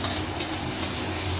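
Onion and green chili frying in oil for a two-packet batch of noodles, a steady broadband sizzle with faint scraping of a stirring utensil, close and continuous with no voices.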